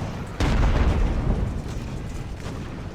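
Cannon fire from a siege battle in Ultimate Admiral: Age of Sail, a sudden deep boom followed by a sustained low rumble of repeated artillery blasts that slowly fade into the distance.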